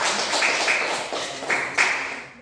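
A classroom of students clapping for a presenting group, a dense burst of hand claps close by, fading and swelling briefly before trailing off, with no talk over it.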